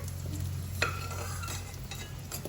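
Potatoes lightly fried in butter for chicken dak bungalow sizzle steadily in a pan while a spoon stirs and scrapes them, with one sharp clink near the start, close and fairly quiet, with no talk.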